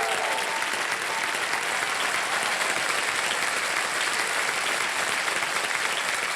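A studio audience on the TV quiz show Kaun Banega Crorepati gives sustained, even applause that fills the whole stretch without a break.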